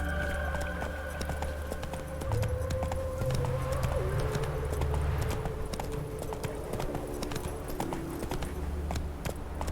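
A horse gallops in The Witcher 3 video game, its hoofbeats forming a steady clip-clop rhythm under continuous game music and ambience, with a brief vocal sound over the top.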